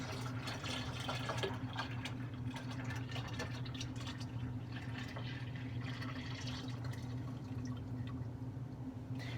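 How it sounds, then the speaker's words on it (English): Wort mixture and dextrose pour steadily into a Mr Beer keg, a continuous close splashing and gurgling of liquid over a low hum, lasting throughout without speech. "pour our wort mixture and dextrose into the keg"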